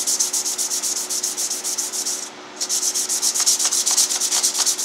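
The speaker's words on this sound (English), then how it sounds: "I have some 800 grit sandpaper. You can use whatever, but basically just run over it, sand it down, rough it up a little bit." Sanding by hand with 800 grit sandpaper to rough up a surface before camouflage painting, loud close rhythmic rubbing strokes in a quick steady back-and-forth, with one short break midway.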